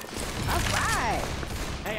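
A burst of dense gunfire from the zombie shooter Left 4 Dead 2 fills the clip in a steady, close volley, with a voice talking over it.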